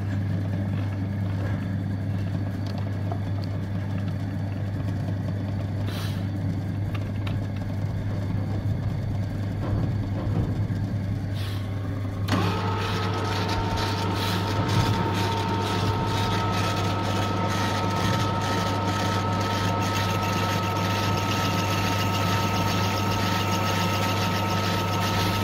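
A machine takes a light cut across a flange during a Standard Fordson Perkins 4.270 engine conversion: a constant low motor hum, then a sharper whining tone of the cut starting midway and holding steadily to the end.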